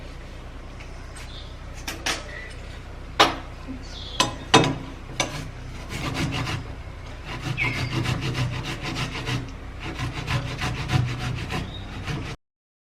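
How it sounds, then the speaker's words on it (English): A tomato rubbed against a kitchen grater, heard as close, rasping scrapes in uneven strokes with a few sharper knocks, fairly quiet overall and with no talking. "so after grating the tomato, what you're going to do next is to strain the juice out."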